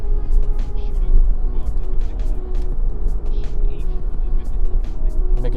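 Toyota 4Runner on a road test drive with new calipers and rotors, steady engine and tyre rumble filling the cabin as the brakes are held on, with a voice talking over it throughout.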